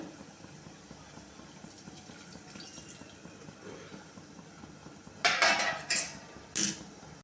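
Water splashes into a pan of leafy greens cooking on medium gas with salt, masala, hing and turmeric. A quiet stretch leads to a few short, bright pouring and clattering bursts near the end.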